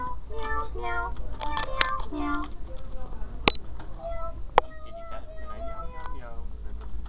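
A voice imitates a cat, with a string of short, pitched meows in an even rhythm mixed with speech and a couple of sharp clicks.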